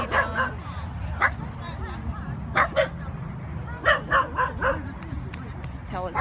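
Several dogs at a dog park give sharp barks and yips in scattered bursts, close by, over steady background noise while a person talks.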